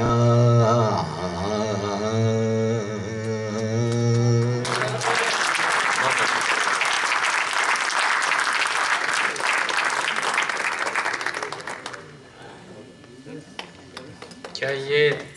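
A sung ghazal ends and is followed by a loud burst of audience applause at an Urdu Academy tribute to poet Haleem Qureshi. The clapping holds strong for several seconds, then thins out and fades.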